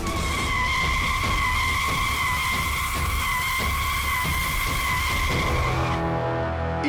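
A cartoon car brakes hard and skids with a loud, sustained, high-pitched tire squeal over engine rumble for about six seconds, then cuts off abruptly.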